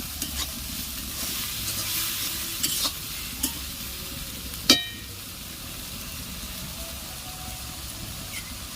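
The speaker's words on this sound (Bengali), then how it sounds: "ভালো করে কষিয়ে নিচ্ছি।" Spice paste sizzles softly in a wok for a prawn and green jackfruit dish, with faint scraping stir strokes and a few sharper clicks and knocks over a low, quiet bed of frying.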